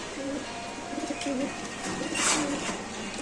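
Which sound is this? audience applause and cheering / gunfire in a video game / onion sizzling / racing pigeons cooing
racing pigeons cooing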